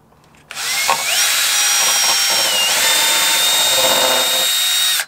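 A small power drill with a 2 mm bit bores a hole in a part of a Nexa Tiger Moth model aircraft, a close, loud, steady whine lasting about four and a half seconds with slight pitch shifts as it cuts.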